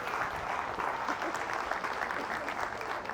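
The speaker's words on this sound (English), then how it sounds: "Give a round of applause." An audience applauds at a live mind-games performance, steady dense clapping that holds evenly through the whole stretch without pauses.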